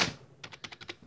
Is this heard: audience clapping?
no